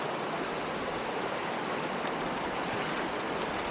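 Fast current of a river about 1.5 feet deep, a dense, steady rushing roar of water that stays close and constant with no other sounds over it.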